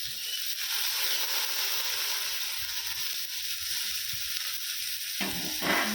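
Cauliflower, carrot, beans and cabbage fry in hot oil for veg momo filling, giving a steady, dense sizzle with occasional stirring scrapes, fairly close and even throughout with no talk.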